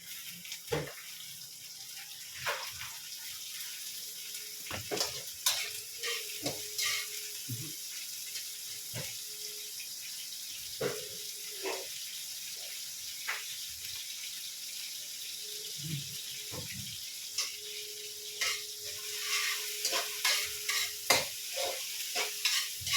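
Shrimp sautéed with vegetables in a pan after the aromatics have browned, giving a steady low sizzle with repeated scraping stir strokes throughout and occasional water-like clatter, with no talking.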